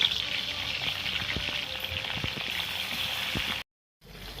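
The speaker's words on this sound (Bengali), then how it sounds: "তো পটলগুলো আমার ভাজা হয়ে গেছে" Pointed gourd pieces coated in turmeric and salt fry in oil in a kadai, giving a continuous close sizzle with scattered crackles and light stirring taps; near the end the sound cuts out briefly and then resumes.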